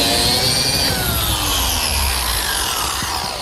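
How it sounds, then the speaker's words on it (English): A power drill bores a 1/2-inch axle hole in redwood for a grill cart wheel assembly, a steady loud whirring drone that continues throughout with no talking. "Now I'm ready to drill a 1/2-inch hole, which is going to receive the axle for the wheel assembly."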